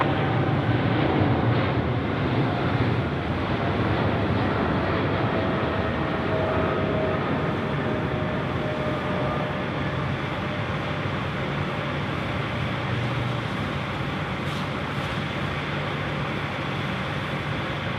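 A passenger jet departs Sydney Airport at night, its broad engine roar steady and loud throughout, with a low rumble filling the whole span and no voices.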